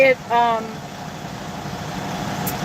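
A cold vehicle engine idles loudly, a steady low rumble with faint mid-frequency vibration running continuously after a brief snatch of talk at the start.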